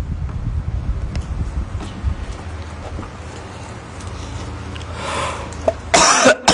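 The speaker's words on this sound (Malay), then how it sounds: "Kuat batuk ni" A burst of harsh coughing near the end from a religious lecturer, loud and close, after several seconds of low rumbling room noise.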